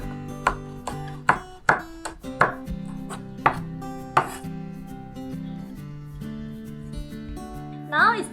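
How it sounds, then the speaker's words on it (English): A knife slices chili on a cutting board in a home kitchen, giving about eight sharp, close chops in quick succession that then thin out, with a background hum and a brief rustle at the end. "And now slice the chili."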